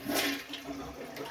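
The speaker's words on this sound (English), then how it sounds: "let's try the full flush" A toilet's full flush, a close rushing surge of water draining from the tank that holds steady for the whole moment with no voices.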